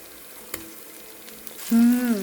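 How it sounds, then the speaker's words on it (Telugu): Onions fry in oil as ginger-garlic paste goes in for a country-chicken-style gravy: a faint, steady sizzle with a couple of light clicks, then a louder tonal whine near the end. "ఆనియన్ వేగుతున్నాయి కదండి, అల్లం వెల్లిపాయ పేస్ట్ వేస్తున్నాను"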